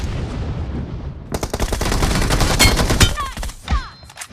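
Dense bursts of automatic gunfire from a shooter video game ring out loud and rapid for several seconds, then fade into a few scattered shots and whizzing ricochets.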